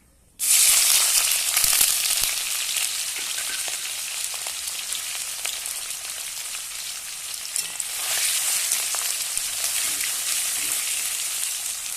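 Dry red chillies, cardamom, cloves and garam masala hit hot oil with a sudden loud burst of sizzling, then a dense, steady crackle that swells again near the end, with no voices.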